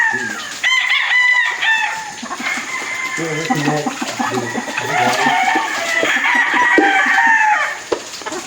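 Gamefowl stags and pullets at a gamefarm, with roosters crowing loudly and repeatedly nearby over constant clucking and chatter of the flock, and a voice speaking now and then.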